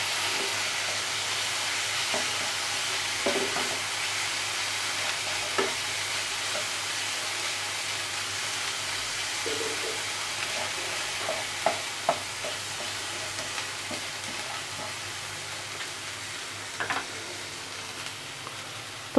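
Pomfret fish fries in mustard oil with masala in a pan, giving a steady soft sizzle and hiss with occasional light taps and stirs, close but fairly subdued.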